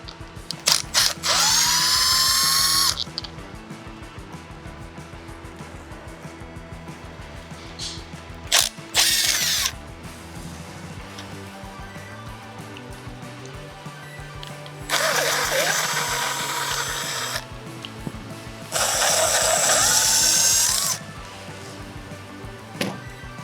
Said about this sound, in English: Now we're ready to use the Phillips screwdriver to open up the switch housing.